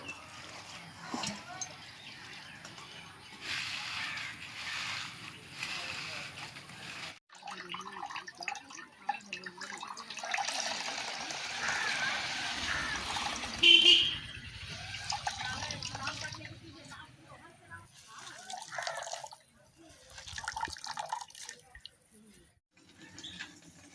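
Watermelon juice is squeezed from chopped fruit through a cloth net, giving soft wet squelching, dripping and trickling into a container while a person talks over it at times.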